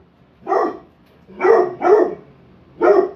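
A dog passing by barks four times, a single bark followed by a quick pair and then one more, each short, clear and fairly close, with no talking.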